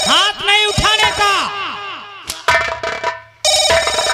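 A telephone rings loudly with a warbling electronic tone, repeating in quick pulses and then breaking off abruptly in several bursts.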